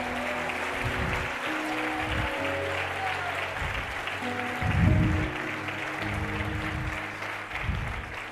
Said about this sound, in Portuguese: Isso, aplauda Jesus mais forte, aplauda Jesus mais forte.